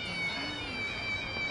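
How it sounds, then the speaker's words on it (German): In Yakuza Kiwami, Mew Shoes let out a thin, high cat-like meow with each step, a faint, steady mewing tone layered over quiet game background. "sie heißen Mew Shoes, weil sie Miau machen"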